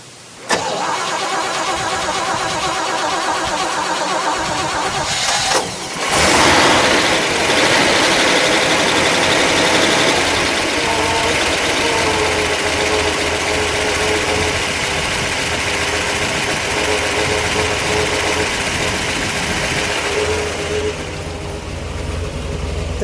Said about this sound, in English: We'll listen to it idle with all of it, how it normally sounds.